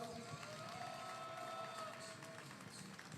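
Audience applause at a night-time union general assembly in Busan, honoring university students: a fairly faint, steady spatter of clapping with some cheering from a gathered crowd, sustained across the moment without a clear voice over it.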